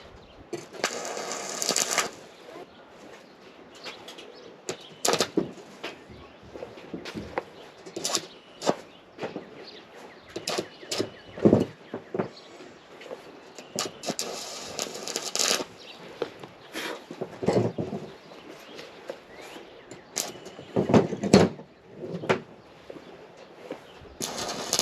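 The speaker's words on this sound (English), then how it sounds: "I just tack welded the two sides." Thin metal pieces tack welded with a cheap Rilon stick arc welder, loud bursts of harsh crackling arc noise coming in short irregular spurts with quieter gaps between.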